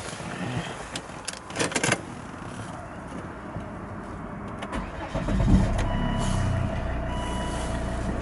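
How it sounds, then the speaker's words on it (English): A Volvo XC90 D5 SE Lux diesel engine cranks and fires up after a few clicks, settling into a steady, close, low idle rumble. "Whilst I have the key, let's start the engine."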